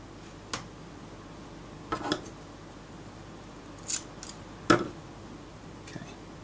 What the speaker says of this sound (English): grab our cutters and cut away the Kevlar